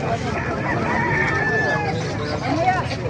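White Kelso roosters at an outdoor chicken market in Calumpit, Bulacan, one crowing in a long drawn-out call over a steady babble of nearby voices and talk.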